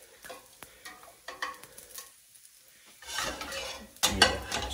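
Spaghetti cooked al dente goes into a carbonara frying pan, with scattered utensil clinks and scrapes, a short quiet gap, then louder sizzling and stirring with a sharp clack near the end.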